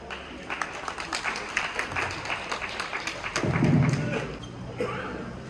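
Audience applause greeting a chairman at an event, dense clapping rising and swelling toward the end with a few thumps mixed in.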